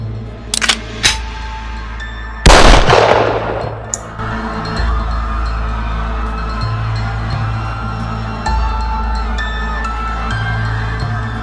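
Gunfire in an Indonesian detective drama: a loud burst of shots around the third second, with a few sharp bangs before it, then a steady low hum and tonal background for the rest.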